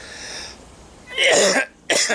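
Two harsh, loud coughs close to the microphone, the first drawn out and the second sharp and brief, after a quieter breathy sound.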